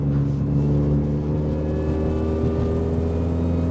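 The engine of a modified Mini Cooper S R53 growls steadily from inside the car as it accelerates on a road, a loud, continuous droning hum with no talking.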